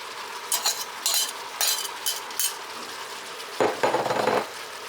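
Onions added to an Instant Pot and stirred, a soft sizzle under a series of short scraping strokes and a longer rustling stir near the end.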